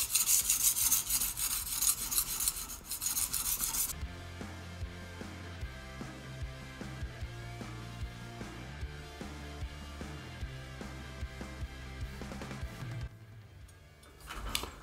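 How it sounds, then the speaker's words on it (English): Knife blade scraping steadily on a coarse Japanese sharpening stone, a close rhythmic rubbing rasp that repeats back and forth for many strokes with no talking. "then we will hop on to the Japanese sharpening stone"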